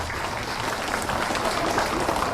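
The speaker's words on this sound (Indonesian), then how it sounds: "Tepuk tangan buat Pak Harto." A dense crowd of party members applauds for Pak Harto at his grave site, a steady, continuous wash of clapping with no single claps standing out, holding at an even level throughout.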